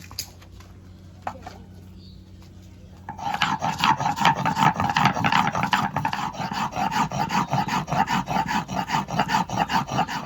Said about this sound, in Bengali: লঙ্কাটা বেটে নেব।